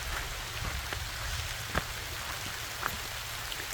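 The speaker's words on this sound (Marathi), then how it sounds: "पाहू शकतो एकदम जोराचा पाऊस पडून राहिलाय" Heavy rain pours down steadily on a wet monsoon day in a village, a dense continuous hiss with occasional louder drops hitting nearby surfaces, and no voices heard.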